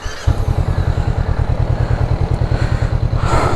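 A Honda CB500X motorcycle engine fires up with a single-touch start and settles into a steady, throbbing idle with a deep, rapid low-frequency pulse, loud and close.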